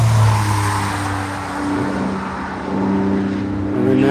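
JD Kroll's Porsche passing on a race track at Hedge Hollow during Tire Rack One Lap of America, a loud sustained engine whine that holds steady and then shifts pitch as the car goes by.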